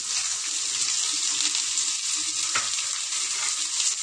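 Ingredients sauté in a pan with a constant bright sizzle and a faint scrape partway through, close and unbroken.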